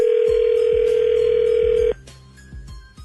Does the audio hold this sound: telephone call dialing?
yes